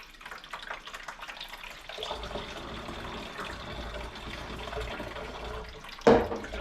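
Water pours steadily into the tank of a plant humidifier, starting as a thin trickle and becoming a fuller, continuous splashing stream that runs up close, with a brief louder knock near the end.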